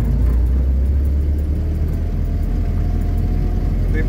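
A UAZ off-road vehicle pulls away in gear on its first drive out to the forest, a heavy, continuous engine rumble close by with no speech over it.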